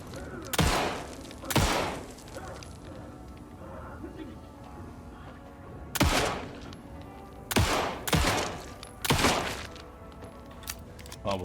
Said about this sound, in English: we'll just shoot him instead then